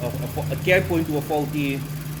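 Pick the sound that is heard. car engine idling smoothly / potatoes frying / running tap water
car engine idling smoothly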